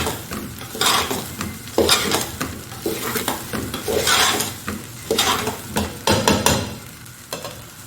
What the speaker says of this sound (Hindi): सर्व करने से पहले इनको बस 1 सेकंड बस भूनना